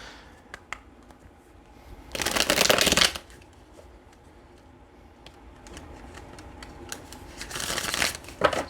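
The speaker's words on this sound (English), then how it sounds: "let's go ahead and get some more tarot cards shuffled" Tarot cards being shuffled by hand in two quick riffling bursts, with soft taps and card handling between them, close and fairly quiet.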